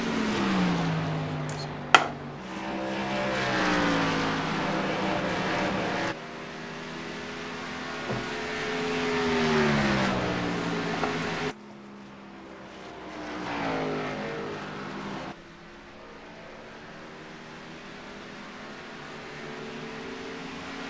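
Race cars lapping Iowa Speedway in a sim racing broadcast, engine drones rising and falling as cars pass and camera views cut, steady and moderately loud with a brief sharp click near the start.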